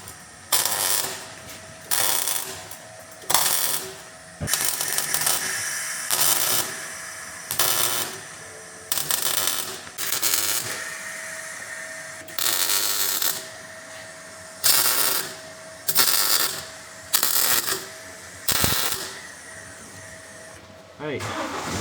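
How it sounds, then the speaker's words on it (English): Holes in a motorcycle engine are being welded shut. Short, loud bursts of crackling welding arc repeat about every one to two seconds, with quiet gaps between them, close to the listener. "So I'm going to weld them in."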